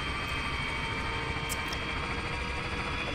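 Inside a helicopter in the video game Arma 3, a steady engine and rotor drone runs evenly throughout with no talk over it.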